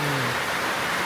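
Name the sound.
heavy rain falling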